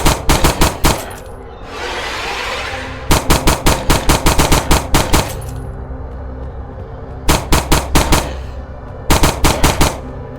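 Bursts of rapid automatic gunfire from a special weapon in the space shooter game SpacePunk Survival, loud and close, fired in several separate volleys with brief pauses and a rushing whoosh between them.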